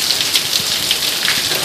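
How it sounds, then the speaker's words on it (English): Heavy rain pours steadily in a desert setting, a dense, close hiss of drops drumming on surfaces with water running off a roof, continuous and alone with no voices. "Look how hard it's raining."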